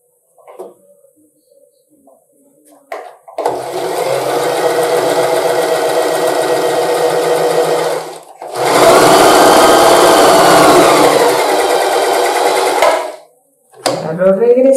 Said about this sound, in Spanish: Y vamos a coser primero en el borde.